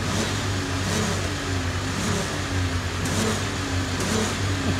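A Ford Super Duty 4x4 pickup engine revs outdoors, a steady mid-pitched motor drone that rises and falls in a few short pulses, close and fairly loud with no talking.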